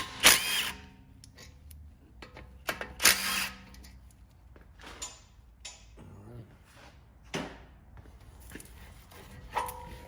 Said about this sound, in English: We got 14 millimeter heads here. Let's blast these off.